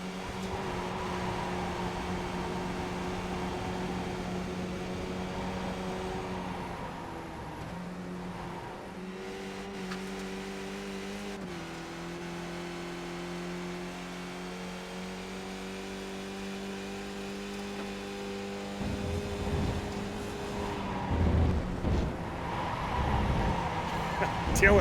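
In the iRacing video game, a race car rolls through the S's at Road Atlanta with a steady engine drone that dips and rises as it shifts and revs through the corners. Commentators talk over it, and the engine swells louder near the end.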